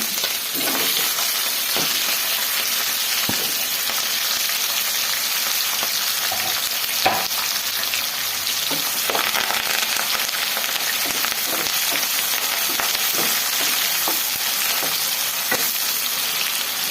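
Onion, curry leaves and green chilli frying in hot oil for uppittu, a loud, dense, continuous sizzle with occasional crackles and spoon stirs, close up and unbroken by speech for the whole stretch.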